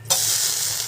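Onion and curry leaves sizzle steadily in a hot pan during tempering for onion dosa, a loud continuous hiss that starts abruptly and holds without talk.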